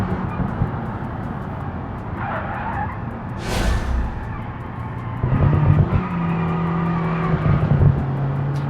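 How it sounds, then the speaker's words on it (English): In the BeamNG driving game, a car with an open differential spins its wheels under full power, producing a loud, sustained tire squeal and skid with the engine droning steadily underneath. "Open differential just is spinning away."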